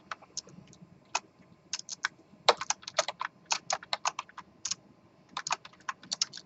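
Keys on a computer keyboard clack in quick, irregular bursts during a lecture on binary and hex, close and fairly quiet, with short pauses between flurries of typing.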